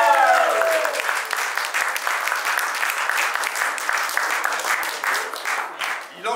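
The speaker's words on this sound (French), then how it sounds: "On l'applaudit." Wedding guests applaud the subject of a wedding speech, a young French bank director, with dense, steady clapping that fills the whole stretch, a voice briefly audible at the start before the clapping takes over.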